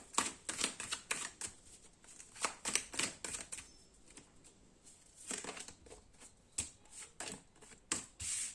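Tarot cards are shuffled and drawn in quick, crisp bursts of papery flicks and slaps, close and fairly quiet, with short irregular pauses between handfuls.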